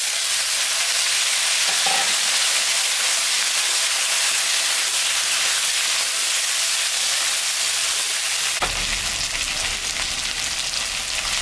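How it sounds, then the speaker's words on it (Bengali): Potatoes and eggplant sizzle in hot oil with onions, cumin and dried chillies in a home kitchen. The loud, steady hiss runs throughout, with a stirring clatter partway through, and no one speaks. "পেঁয়াজটা ভাজা হয়ে গেছে, এখন আমি আলু বেগুন দিয়ে দিলাম।"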